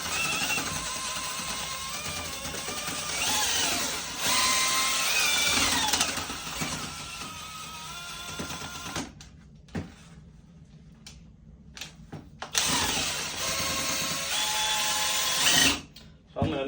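Power drill with a paddle churning drywall joint compound in a bucket, a loud steady whir for most of the stretch that stops and restarts in bursts near the end, with talk over it.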